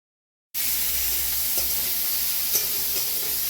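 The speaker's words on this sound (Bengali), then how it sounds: "কড়াইতে ভাজছি" After a brief silence, a loud, constant sizzle of onions frying in a wok with garam masala and ginger-garlic paste starts abruptly, with a couple of faint stirring taps.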